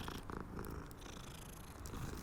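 A cat in the Hogwarts Legacy video game purrs steadily while being petted, a soft continuous rumble with faint background game ambience and no talking.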